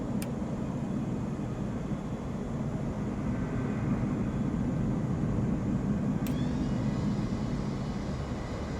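A Pilatus PC-12 turboprop engine in a flight simulator runs steadily after startup, a constant loud broadband whine and roar with two brief high clicks and no speech.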